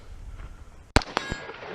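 A rifle bullet strikes a steel target at an outdoor Independence Day action rifle match, giving one sharp, loud metallic clang with a short ring and a few quieter knocks after a hushed outdoor background.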